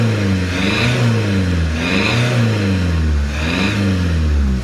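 Toyota Etios engine just started and being revved, with a throttle body complaint: three rising-and-falling revs over a steady idle, close and loud, with no speech.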